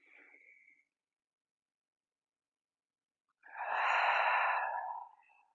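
A single deep breath exhaled through an open mouth, a long, breathy, close-up whoosh that swells and then fades, following a short, softer breath sound and a stretch of silence.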